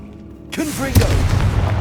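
A fire-blast spell explodes in the Hogwarts Legacy video game, a sudden loud boom after a quiet lead-in, followed by a rumbling tail with brief voice-like tones mixed in.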